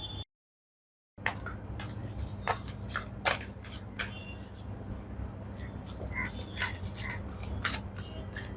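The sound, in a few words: shuffling tarot cards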